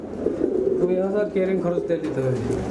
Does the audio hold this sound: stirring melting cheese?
no